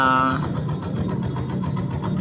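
A Yamaha YTX motorcycle engine runs steadily at idle, a close, continuous mechanical chug with a brief tonal whine at the start, while someone talks over it.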